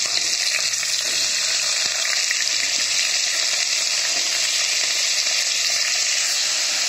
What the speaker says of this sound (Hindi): अब हम इसी कढ़ाई में, इसी ऑयल में ये कद्दू डाल करके इसे थोड़ा सा फ्राई कर